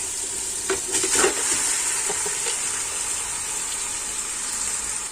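Tender boiled beef trotters are added to ghee and spice masala that has already been fried. A steady close sizzle runs throughout, with a few scraping and stirring knocks near the start and no voices.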